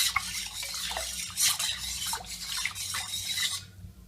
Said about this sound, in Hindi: इस तरह से पानी डालने के बाद हम इसको चला देंगे।